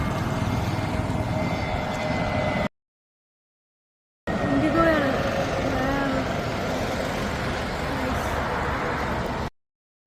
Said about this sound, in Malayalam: എൻ്റെ ലൈഫിൽ തന്നെ ഏറ്റവും കൗതുകത്തോടുകൂടി നോക്കണ ഒരു കാര്യമാണ് കേട്ടോ ഈ ഫ്ലൈറ്റ്.